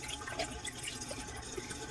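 Water poured from a cooking pot of shrimp sinigang, a steady close splashing and trickling stream that runs for about two seconds without any talking.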